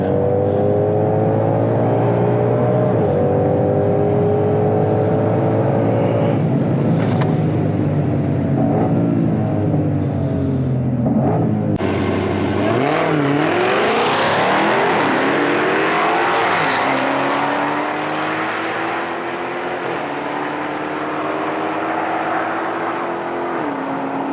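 A 2021 Ford Mustang GT500 roars off the line on a drag strip, engine note climbing steadily, a sharp shift jolt near the middle, then a rougher, scrabbling surge as the car keeps pulling loud and close.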